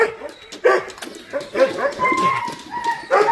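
Several dogs let out in the morning, whimpering, yipping and giving short excited barks as they greet each other, close by and lively, with a person's voice briefly under them.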